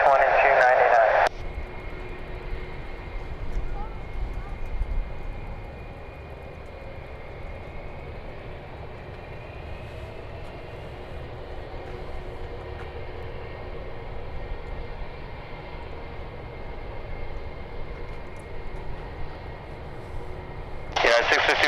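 A United airliner takes off from runway 9 at San Diego, its engines a steady distant roar that swells gradually across the clip, with brief radio chatter at the start and end.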